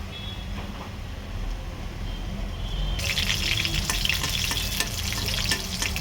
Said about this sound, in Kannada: ಬೆಳ್ಳುಳ್ಳಿ ಚೆನ್ನಾಗಿ ಫ್ರೈ ಆಗ್ಬೇಕು ಕೆಂಪಗೆ